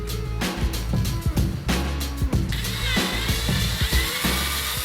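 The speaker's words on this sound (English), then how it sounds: "So we could drill a screw in from the bottom and go into the bottom of the dowel" A power drill driving a screw into the bottom of a wooden dowel for a homemade target, with repeated bursts of motor whir and ratcheting clicks separated by short pauses, close and fairly loud.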